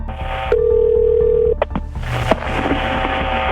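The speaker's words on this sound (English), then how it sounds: "grabbed his cordless landline phone, and called 911." A cordless landline telephone dialing 911: a steady tone, then a few sharp keypad beeps, followed by an ongoing line hiss with faint clicks, heard close and alone.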